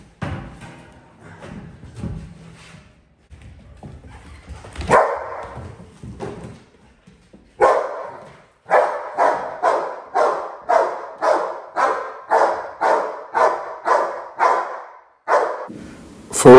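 Dogs in protection training bark at a decoy: a few scattered barks at first, then a loud, rapid run of evenly spaced barks close to the microphone.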